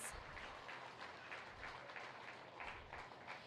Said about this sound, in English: Let's give all 9 of these kiddos a big round of applause.